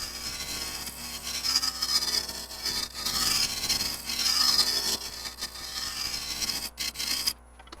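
Gouge cutting spinning bocote wood on a lathe, a steady raspy scraping with a few higher whines as the tool engages, close and continuous before stopping abruptly near the end.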